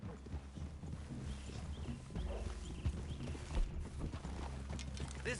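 Horses walking through a clearing in the video game Red Dead Redemption 2, steady clip-clop hoofbeats on soft ground with creaking tack, continuous and fairly close.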